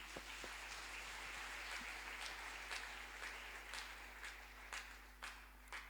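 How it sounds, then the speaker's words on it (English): A church audience claps hands, a soft, distant patter of scattered claps over a steady low hum, with a few sharper individual claps standing out now and then. "Let us clap hands for Jesus."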